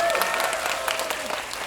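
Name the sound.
audience applause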